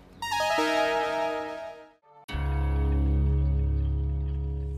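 A phone rings with an electronic melodic ringtone, a tonal phrase that pauses briefly then starts again louder, sustained and unanswered with no voices.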